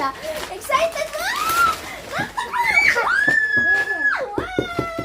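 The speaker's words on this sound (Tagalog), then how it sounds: "Sumisigaw po siya." A toddler at a second birthday party shrieks with excitement while opening gifts, letting out a run of high, rising squeals and screams, close and loud, with other children's voices mixed in.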